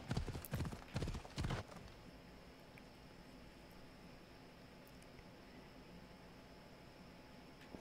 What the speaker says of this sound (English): now also I get to ride around on my fucking flame horse